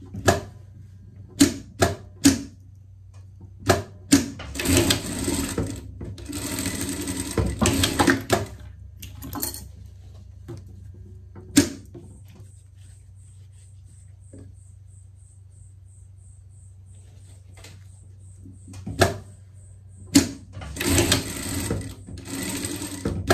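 A sewing machine stitches the shoulder seams of a summer pet outfit in bursts of rapid, loud mechanical clatter, with quieter pauses and a faint high whine between runs.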